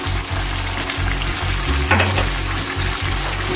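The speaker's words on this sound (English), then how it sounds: "Now we're gonna let this cook on medium, just to create a little bit of a boil." Beef stroganoff cooking over medium heat in a pan, with a loud, close, continuous frying sizzle, occasional stirring scrapes and a low rumbling undertone.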